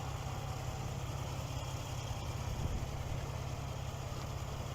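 A 2022 Ford Expedition Limited's twin-turbo 3.5-liter EcoBoost V6 idles steadily at close range, a low, even rumble with a faint mechanical whir and no talking.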